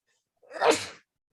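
A single close, loud sneeze lasting about half a second, alone with no talking during it.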